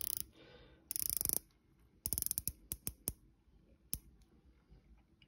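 A stiff Marine Master style dive watch bezel turned by hand, producing close, crisp ratcheting clicks in two quick bursts followed by several slower single clicks, with no voices.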